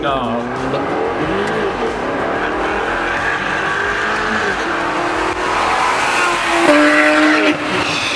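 An Audi R8 accelerating in a drag race, the engine roaring and rising in pitch alongside tire squeal, with people talking and exclaiming excitedly over the noise.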